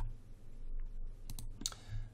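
Computer mouse clicks while working in Maya 2017: a few quick, soft clicks near the end over a quiet room hum.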